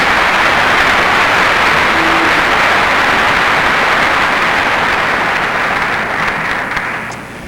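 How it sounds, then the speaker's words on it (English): Pageant audience applauds the tech crew, a loud, even wash of many hands clapping in a large hall, holding steady for several seconds and then fading out near the end. "Tech crew guys, please accept a round of applause from us"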